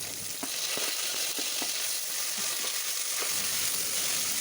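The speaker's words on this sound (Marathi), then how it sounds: "फोडणी छान तडतडल्यावर त्यामध्ये कांदा घालूया. जोपर्यंत गुलाबी रंग येत नाही तोपर्यंत कांदा परतून घ्यायचा आहे." Onion sautéing in hot tempering oil with black pepper for a veg pulao, a steady close sizzle and crackle throughout with faint scattered stirring clicks.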